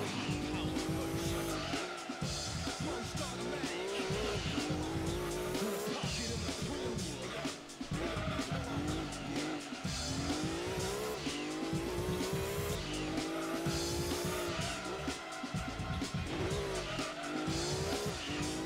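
Race car engine roaring continuously through a Gran Turismo 2 race on PlayStation, with repeated tire squeals and skids as the car struggles to turn under braking, loud and sustained for the whole stretch.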